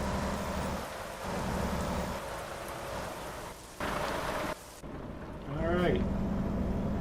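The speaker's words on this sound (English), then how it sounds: "this rain is really making it hard to see" Rain in the American Truck Simulator video game, heard as a constant hiss of falling water with a low engine-like drone beneath it, broken by short cuts and a chirping sweep near the end.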